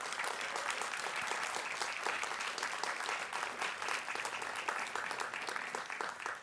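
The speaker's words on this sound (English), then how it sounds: "please can we have a round of applause?" Steady, dense audience applause at a university graduation awards ceremony, many hands clapping continuously for several seconds, broad and even, heard from within the room with no talk over it.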